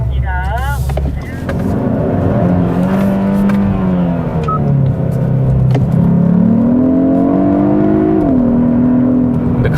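A 2021 Hyundai Sonata N Line engine revs up and down at high RPM on a race circuit, heard from inside, its pitch climbing and falling in waves, with someone speaking over it.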